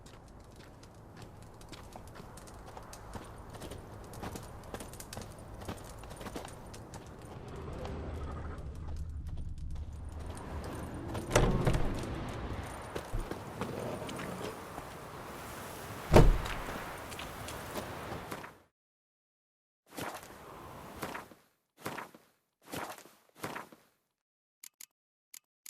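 Horse hooves clip-clop in The Witcher 3 video game, a steady run of near, even hoofbeats that rises to a few louder knocks, then breaks into short separated bursts and brief silences.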